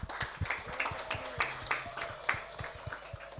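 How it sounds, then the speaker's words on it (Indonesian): Scattered, uneven handclaps from a small audience at a Christian student fellowship service in Banyuwangi, rhythmic and fairly close, patting along without talk. "tepuk tangan, tepuk tangan"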